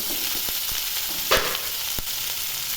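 Potatoes and pointed gourd frying with turmeric in a pan give a steady, close sizzle, broken by a few sharp clicks and a brief louder stir near the middle.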